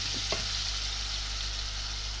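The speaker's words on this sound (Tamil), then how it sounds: "இப்போ நல்லா கிளறிக்கிட்டே இருக்கணும்" Chillies fry in hot oil for Madurai kara chutney, giving a constant, fairly loud hiss, with a couple of quick stirring scrapes near the start and no speech.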